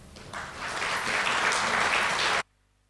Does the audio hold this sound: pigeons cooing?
no